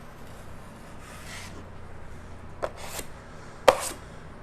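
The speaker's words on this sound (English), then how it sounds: "I'm going to put a little bit of pressure on this side of the knife so it tapers off that end." A drywall taping knife is drawn over wet joint compound and tape, giving soft scraping strokes, a couple of sharper scrapes and one brief tap, close and quiet over a faint background hiss.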